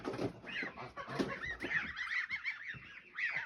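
A flock of about 32 French-breed geese honks repeatedly in overlapping, nasal calls, close by and fairly loud, with some lower chatter underneath.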